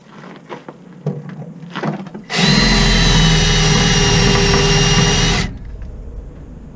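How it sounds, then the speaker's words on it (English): A power drill with a non-metal bit whirs steadily at close range for about three seconds while removing a fuel tank from a 1998 Dennis Dart bus, preceded by a few clicks and handling knocks. "this is not a metal drill bit"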